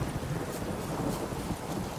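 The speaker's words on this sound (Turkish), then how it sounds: "Storm, damn it. Ne mi yağmur başladı ya?" A thunderstorm with rain in the video game The Witcher 3: Wild Hunt, Hearts of Stone expansion, forms a constant wash of hissing rain and low rumble at moderate level, with no speech.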